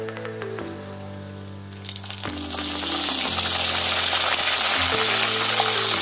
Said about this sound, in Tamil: கருவேப்பிலையை சேர்த்துட்டு நல்லா வதக்கி விட்டுடலாம்